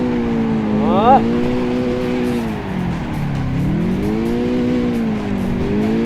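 Car engine in a drifting driving game, revving and climbing in pitch with smooth rising and falling tones, loud and steady across the whole stretch, with a brief short squeal early on.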